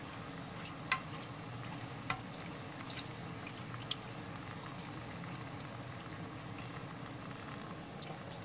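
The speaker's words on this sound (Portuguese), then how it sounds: "Deixamos fritar de um lado e mudamos para o outro" Egg fritters (filhoses) fry in fresh oil with a quiet, even bubbling sizzle, broken by a few soft clicks and taps of a utensil.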